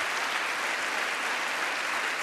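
An audience applauds at the State of the Union address, a dense, steady burst of many hands clapping at once, loud and even throughout.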